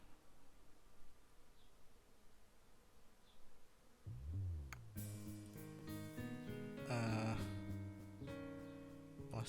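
Soft insect buzzing from the beekeeping video game Hive Time drones faintly for about four seconds, then louder game music with tones and chimes takes over.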